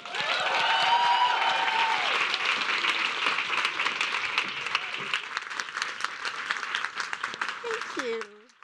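A conference audience at an International Women's Day keynote in New York applauds to welcome the keynote speaker, sustained loud clapping that fades near the end as the speaker begins to talk.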